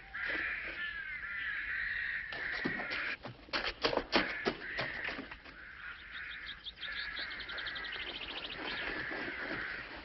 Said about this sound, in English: Them blackbirds is after my fruit.